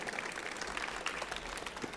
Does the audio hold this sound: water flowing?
no